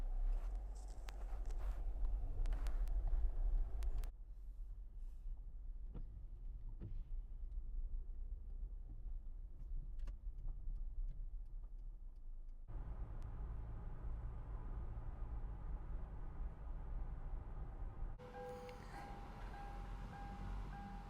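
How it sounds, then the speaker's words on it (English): A car sets off on a small-town road trip through Upper Michigan, its low engine hum and road rumble quiet and steady inside the cabin, shifting in tone as it gets underway. "we're gonna put her in gear and go"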